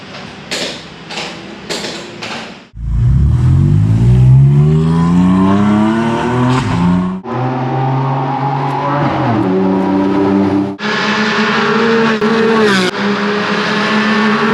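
Porsche Cayman GT4 RS Clubsport race car: a few sharp clicks, then the engine roars loudly up through the gears with rising pitch sweeps and shifts, staying close and powerful throughout.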